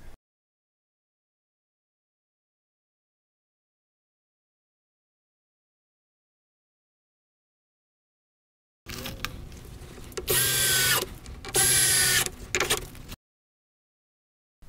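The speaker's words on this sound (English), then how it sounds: "To fix the top shelving down, we use self-drilling, self-countersinking screws." Two bursts of a power drill whirring as it drives self-drilling, self-countersinking screws into pond shelving, with short pauses between, after a long silence.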